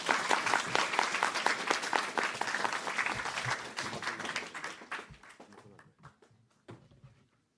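Church audience in a high school group lecture hall gives a burst of steady clapping that stays dense for several seconds, then thins and fades out to silence.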